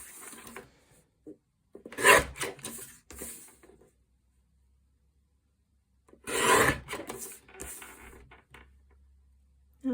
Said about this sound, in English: I'm going to take my tonic and trusty old guillotine. And I'm just going to cut out the elements